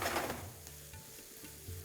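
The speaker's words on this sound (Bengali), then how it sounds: "এবার এটাকে আপনাদের ততক্ষণ ভেজে নিতে হবে যতক্ষণ এটা একটু ব্রাউন হয়ে আসছে।" Chopped onions frying in a pan on a high flame, a soft steady sizzle with a few light scraping stirs, fairly quiet and close.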